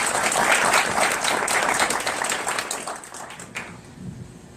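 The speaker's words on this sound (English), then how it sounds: "Let's give a round of applause to Representative Mayfield and Senator Bray." Audience applause at a legislative town-hall session in Mooresville, a full round of clapping that stays strong for a few seconds, then thins out and fades to scattered claps.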